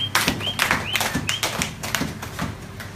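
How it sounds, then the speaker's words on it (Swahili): A church congregation at a Bible study and prayer meeting claps together, a dense run of sharp hand claps with slight rhythmic unevenness, fairly close and steady throughout without speech. "Tupigie Bwana makofi makubwa"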